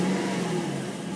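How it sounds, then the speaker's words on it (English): A 1998 Toyota Celsior B-Spec engine revving nearby, a steady mid-pitched roar with a brief rise in pitch across a short stretch, no voices. "let's have a listen to the engine"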